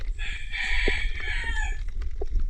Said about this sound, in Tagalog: andyan na naman ang hamal na manok